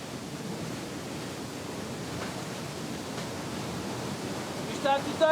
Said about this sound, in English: Once again, a wall of water blocks access to the depths of the cave.